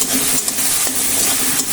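Cumin, coriander and turmeric frying together in hot oil give a steady, close sizzle with soft hissing crackle that runs unbroken.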